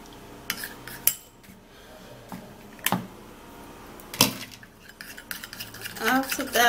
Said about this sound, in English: After that, I will stir